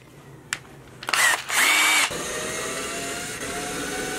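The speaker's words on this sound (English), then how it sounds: "Got this right angle drill." A right angle power drill whirs up in short bursts, a high revving whine that cuts in and out, followed by a steady lower hum of the motor running on.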